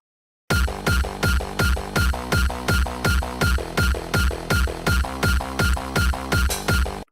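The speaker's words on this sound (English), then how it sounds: "It's supposed to have like a kick here, like a kick, and then the bass is gonna be behind it." Layered hardstyle kick and bass thump in a steady, loud, driving pattern, about fourteen evenly spaced hits over seven seconds, with no talking.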